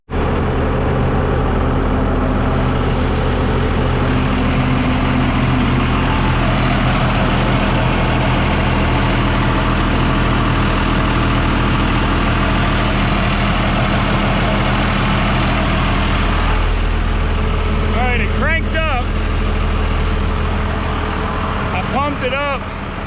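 A truck engine idles after a fuel pumping repair, a loud, steady low rumble that runs without a break. Voices talk over it near the end.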